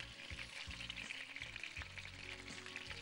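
Boiled meat sizzles steadily in hot oil as it is sautéed in a home-style Bengali kitchen, a dense close frying hiss with a few soft low thumps from the pieces and pan, and no voices.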